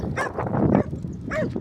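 Guard dogs bark aggressively at a passing cyclist, a few harsh close barks in two bursts with a short pause between them.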